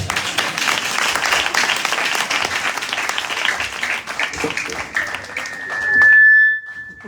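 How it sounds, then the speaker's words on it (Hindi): An audience at an outdoor Christian gathering in Faisalabad, Pakistan, claps loudly and steadily for several seconds, the applause thinning out toward the end as a sustained electronic tone briefly rises. "तालियां बजाओ"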